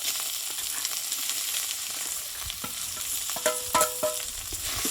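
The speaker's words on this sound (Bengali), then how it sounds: "মশলার সঙ্গে আলুটা আমি একটু ভালোভাবে কষিয়ে নেবো" Boiled potatoes stirred into a spiced masala in a hot pan give a steady close sizzle and frying hiss, with a few scraping stirs and clinks of a utensil toward the end.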